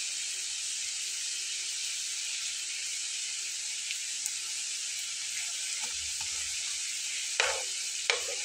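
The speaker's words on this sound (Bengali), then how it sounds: "তো বারবার উল্টে পাল্টে এগুলোকে ভেজে নিয়ে তুলে ফেলবো।" Egg and coriander fritters bound with rice flour frying in hot oil, a continuous bright sizzle with a couple of sharper clatters near the end as they are turned, no talking.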